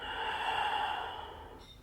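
Slow, deep breath during a gentle yoga twist done in bed, one long airy exhale close to the ear that fades away over about two seconds.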